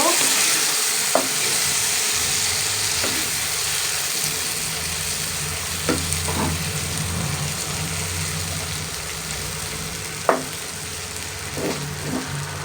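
Ingredients for a hyacinth bean and poppy seed dish sauté in oil, a continuous close sizzle broken by occasional scraping stirs of a spatula against the pan, with a low steady hum underneath.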